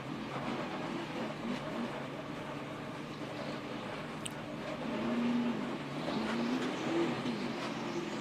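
Damaged NASCAR race car limping back to the garage at Dover, its engine a low steady drone at moderate distance, rising slightly in pitch and loudness in the later seconds, with no voices.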